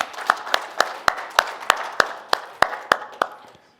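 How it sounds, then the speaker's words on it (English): Applause at LambdaConf, a programming conference, comes as about a dozen crisp, evenly spaced claps in a steady rhythm that fade out at the end, sounding like only a few hands rather than a full crowd. "I was hoping that we could all give a round of applause for the LambdaConf"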